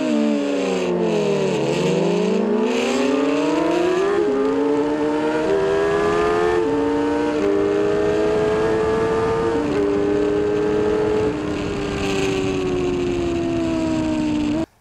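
A Suzuki GSX-R1000 and a Hayabusa race down a drag strip, engines screaming loud and close as they climb through repeated gear changes, pitch dropping at each shift and rising again until a sudden cutoff.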